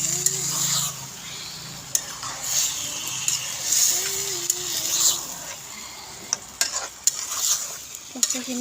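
Taro being stirred with chicken in a pan, a steady sizzle and frying hiss with repeated scraping and clacking of the spatula, close and continuous, with faint voices briefly in the background.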